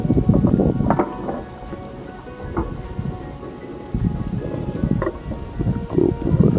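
Rain falls on a rainy day in Islamabad, a continuous wash of drops with low, gusty rumbling bursts that swell and fade throughout.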